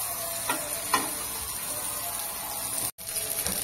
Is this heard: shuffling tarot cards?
no